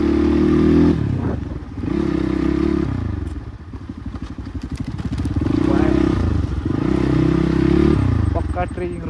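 A motorbike labors along a rough mountain trekking road in Manang, its engine chugging and revving in surges with clattering and thumps from the bumpy ride, close up, while people talk.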